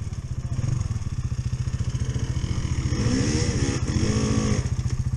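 A KTM 350 EXC-F enduro motorcycle, a 2020 model, revs hard on a steep climb, its loud engine pulsing steadily and swelling with throttle close to the listener.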